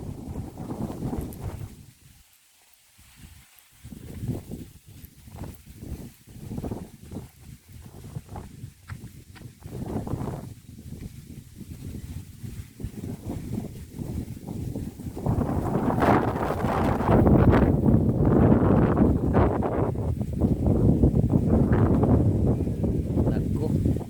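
Strong, cold wind gusts across the microphone on a mountain hiking trail with 500 stairway steps at Barangay Adlaon, Cebu City, rumbling in uneven bursts that build into a steady loud roar in the second half, with footsteps and a voice beneath.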